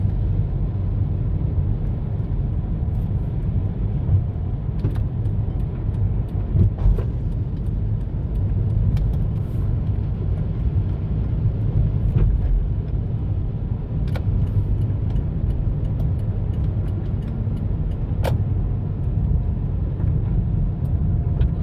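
A large imported RC car drives steadily, its continuous low motor rumble and rolling noise holding at an even level throughout with no voices present.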